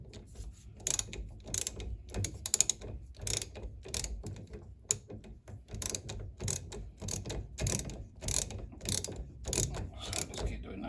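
Ratchet clicking in quick repeated bursts as a 17mm socket tightens a bolt on a Mazda MX5 NC rear brake caliper, close and fairly loud with mechanical clatter, no talking.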